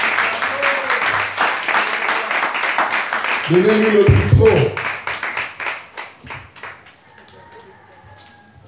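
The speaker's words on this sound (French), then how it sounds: "Applaudissez fort." Church congregation clapping at a Christmas Eve service, a lively patter of hands with brief talk and a low vocal burst midway, thinning into scattered claps near the end.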